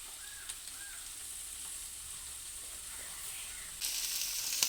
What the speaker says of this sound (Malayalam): ആ ഇഞ്ചിയും വെളുത്തുള്ളിയും പെരുംജീരകവും ഇത് ഈ ചട്ടിക്ക് ഇട്ടപ്പോൾ